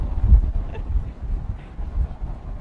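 Strong gusty wind blowing outdoors in Bundaberg, Queensland, rumbling continuously at close range with irregular surges of low buffeting.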